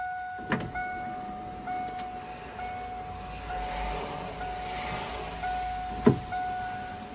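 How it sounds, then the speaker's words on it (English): Power windows on a Ford Cobra that won't start, motors whirring steadily with short thumps as the glass starts and stops, close by with no one talking. "But we have working windows."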